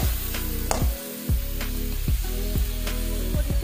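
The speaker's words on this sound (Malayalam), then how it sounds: "ഇനി നമ്മുടെ ഈ എണ്ണയിലൊന്ന് വഴറ്റിയെടുത്താൽ മതി." Drumstick leaves and coconut sautéing in hot oil, a steady sizzle and crackle with a few sharp stirring scrapes, close and alone without any voices.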